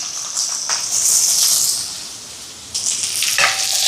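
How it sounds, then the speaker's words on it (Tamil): Green chillies, shallots and garlic hitting hot oil in a Jaffna-style kitchen, a loud steady sizzle that swells and fades, then flares again with a fresh burst of spattering near the end. "இதில் வந்து பச்சை மிளகாய், சின்ன வெங்காயம், உள்ளி எல்லாத்தையும் சேர்ப்பேன்."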